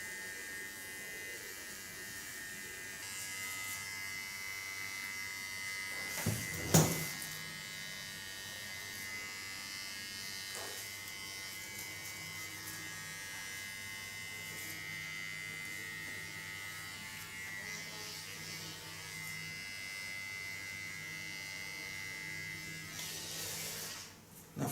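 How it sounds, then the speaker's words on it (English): An electric hair clipper buzzes steadily through a neon-dyed undercut, with a constant close hum and a few brief louder rattles and knocks partway through. "Now so for the clipper"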